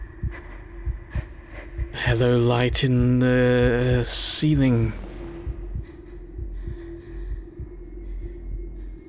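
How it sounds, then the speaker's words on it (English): In the horror video game Captured, pre-alpha demo, a low, muffled heartbeat thumps in a steady rhythm over a droning hum, partly covered by someone talking. "Hello, noises. Hello, heartbeat."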